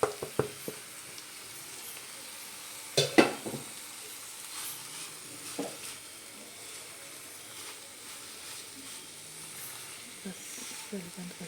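Grated paneer being stirred into a frying pan of spiced paneer bhurji, with a soft sizzle under scattered scraping and clinking, including a sharper knock of the spoon against the pan early on.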